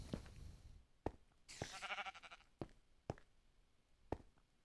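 Sheep bleating in the Minecraft video game, one wavering bleat in the middle of the clip, moderately loud, surrounded by several sharp knock-like game clicks and taps.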